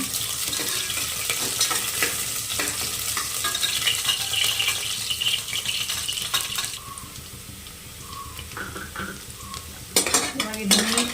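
Radish greens frying in a pan with onion, a steady sizzle broken by scraping and clinking of a utensil against the metal, louder clatter near the end, no talking.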